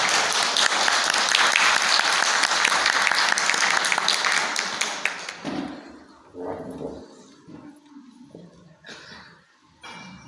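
Sustained audience applause at a Palestine solidarity event fills the first half, loud and dense, then fades out as scattered clapping and a few thuds trail off and a voice begins.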